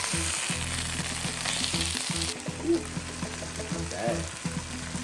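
Spicy Korean chicken pieces on a grill over high heat give a steady, loud sizzle and frying crackle throughout, with a brief clink partway.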